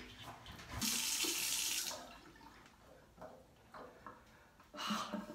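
Water runs from a bathroom tap into a sink while the face is washed after shaving, a steady loud rush for about a second before dropping to quieter splashes and trickles, with another brief surge near the end.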